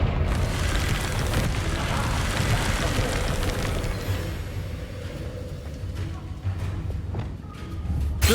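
Confringo fire spell blast in the Hogwarts Legacy video game, a roaring, eruptive whoosh of flame that swells at the start and churns continuously, with scattered sharper crackles and clatter toward the end.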